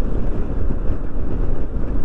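Yamaha XMAX 300 scooter on the road, with steady loud wind rush buffeting the microphone over a low engine drone throughout.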